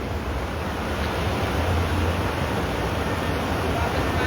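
River water rushing in a steady, dense broadband wash at a UK trout fly-fishing spot, close and unbroken throughout, with no voices.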